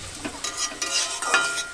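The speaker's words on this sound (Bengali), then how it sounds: "সুন্দরভাবে আস্তে আস্তে গ্যাস কমিয়ে ভাজা করে নেব" Leafy greens stirred in a pan over low heat, a soft wet sizzle with several quick scraping strokes of a spatula in close succession, brief and near, without any voices.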